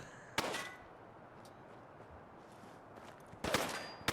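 Two sharp sniper rifle shots from the video game Fallout London ring out about three seconds apart, each a loud crack over a quiet background.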